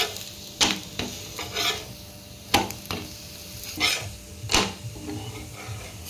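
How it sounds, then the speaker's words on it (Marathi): Crispy thalipeeth flatbread, a fasting-day potato flatbread, roasting on a pan, a soft steady sizzle broken by a few sharp scraping or tapping spikes, close and alone. "आता दुसरी बाजू एकदम छान व्यवस्थित शेकून घ्यायची आहे"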